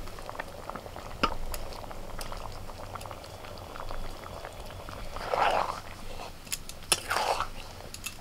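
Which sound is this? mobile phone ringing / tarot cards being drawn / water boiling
water boiling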